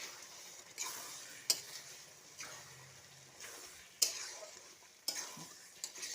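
Chicken pieces tipped into a pan of sizzling spice masala for an aloo chicken kosha, then stirred, a continuous frying hiss broken by repeated scraping and clanking stirs, close and fairly quiet.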